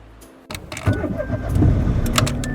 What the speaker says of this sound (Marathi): This is a car.